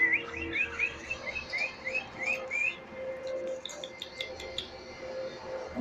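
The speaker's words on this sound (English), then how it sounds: "Yeah, my pretty bird." A pet bird chirps in a quick run of bright, rising tweets, repeated about ten times in the first half, then fainter scattered calls over low room hum, with no talking.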